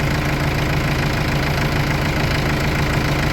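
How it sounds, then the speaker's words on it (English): A small loader tractor's engine idles on a northern Wisconsin farm during cattle feeding with oatlage bales, a loud, close, steady rumble with an even knocking beat and no pauses or voices. "We've got this little loader tractor here."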